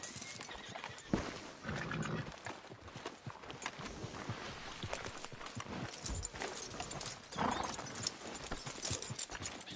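A horse's hooves clip-clop in a Red Dead Redemption 2 scene, irregular steps mixed with shuffling and a faint whinny over a low ambient bed.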